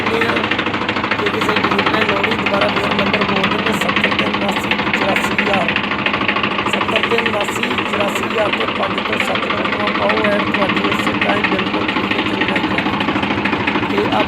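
A 265 tractor engine running, a steady loud diesel chug with constant knocking vibration throughout, close by, with someone talking over it.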